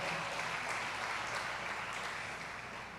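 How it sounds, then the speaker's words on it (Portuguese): A church congregation at a worship service claps in a broad, continuous wash of applause, heard faintly and somewhat distant against a steady low hum. "Você pode aplaudir as promessas do Senhor sendo cumpridas na vida do homem."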